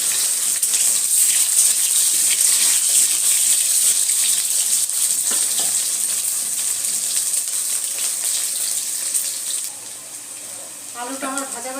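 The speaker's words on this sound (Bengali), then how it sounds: "এর মধ্যে আমি আলুগুলো ভেজে নেব।" Potatoes fry in hot mustard oil in a wok (kadai), producing a steady, loud, bright hiss that fades slightly over time; a voice speaks briefly at the very end.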